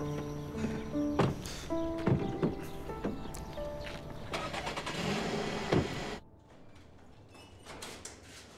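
A car engine turns over and starts amid clunks of doors and movement, loud at first and then settling into a quieter, steady idle.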